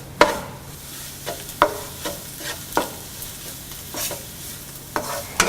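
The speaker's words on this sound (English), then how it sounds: "add meat masala powder, black pepper powder and red chili powder and saute well" Chicken curry being sautéed with meat masala powder, black pepper and red chili powder, with a spoon scraping and stirring in regular strokes over a soft, steady sizzle, close up.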